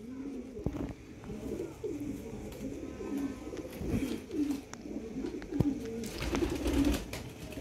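Pigeons coo repeatedly in soft, rolling phrases at a moderate distance, with a few faint clicks and rustles in between and no talk over them.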